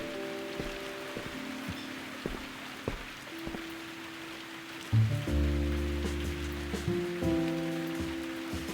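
Rain patters in the video game Viewfinder, a soft, steady drizzle of drops under sustained musical tones and low synth notes that swell partway through.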